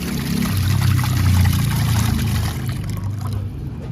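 Water pours steadily into a birds' drinking container in a continuous low splashing stream, fairly close, with a faint high hiss above it and no talking.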